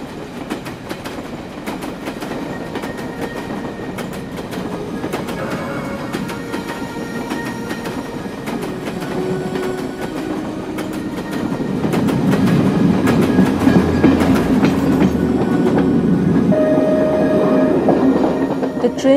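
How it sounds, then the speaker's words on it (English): A train speeds across the wide Ganges plain in eastern India, steady wheel clatter and rail rumble filling the sound, growing louder and heavier partway through, with a faint squeal of wheels near the end. "The train sped through the vast Ganges plain to the east."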